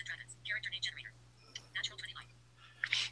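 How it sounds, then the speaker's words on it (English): A phone dice app speaks aloud with a thin, synthetic voice in short bursts during a tabletop role-playing session, over a steady low hum, faint and close. "Do you guys love hearing my phone talk"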